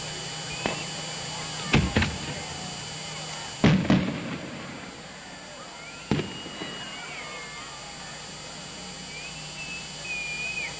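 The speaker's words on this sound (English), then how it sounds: "Fireworks time." Fireworks at a speedway during a 1985 evening of late-model racing, heard as a few sharp distant bangs with crackling tails, spaced several seconds apart over a steady background of crowd murmur and whistling.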